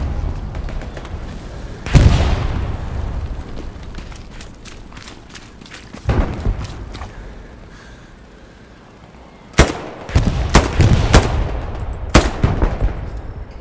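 Gunfire in the World War II shooter Hell Let Loose, set in a forest: several loud bursts of shots near the start, middle and end, with rapid volleys toward the close over a low steady battle rumble.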